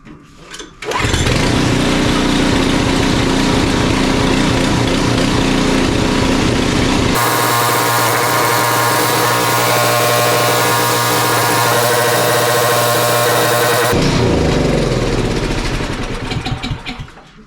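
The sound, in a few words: Craftsman two-stage snowblower engine running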